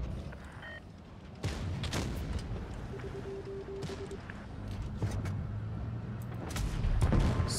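Tank cannon shots in the mobile game World of Tanks Blitz, a few sharp booming blasts with rumbling tails spread across the clip over game ambience and engine hum.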